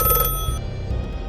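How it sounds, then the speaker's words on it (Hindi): An old-style telephone bell rings with a bright, metallic jangle over a dense low rumble, loud and close, the ringing trailing off partway through. "तभी बूथ से फोन की घंटी बजने लगी।"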